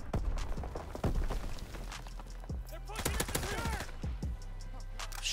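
Rapid gunfire from Call of Duty: WW2 multiplayer, a mix of automatic bursts and single shots with footsteps, loud and close, repeated through most of the stretch.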